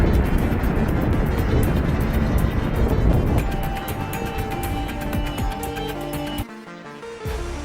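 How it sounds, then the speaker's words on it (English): Jet airliner roaring low overhead at Maho Beach, St. Martin, a loud broad engine rush that gradually eases and thins out before a brief drop near the end. "As the plane soars over Maho Beach, St. Martin, it feels like you could almost reach out and touch it."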